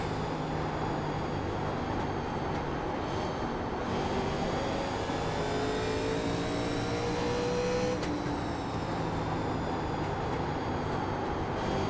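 A field of 1987 stock cars thunders around Bristol in the iRacing simulator, with a constant dense engine drone and gliding pitch as cars accelerate and slow for corners.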